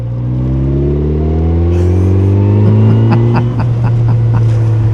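A Kawasaki Z900 or Yamaha MT-09 motorcycle in sixth gear decelerates at highway pace without downshifting, its steady engine drone sliding down in pitch with loud, close rumble and crackling overrun pops toward the end.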